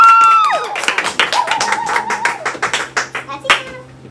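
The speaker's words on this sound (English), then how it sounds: "Round of applause." A small group of people clapping together at a goodbye gathering, with irregular, overlapping claps spread across about four seconds, moderately loud and close.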